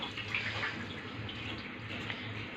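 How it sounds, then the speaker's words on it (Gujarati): Cold water poured over freshly boiled hakka noodles gives a continuous splashing hiss like a running tap, close and steady for the whole stretch, with no talk. "તો આપણે એને હવે ઠંડુ પાણી નાખી દઈશું"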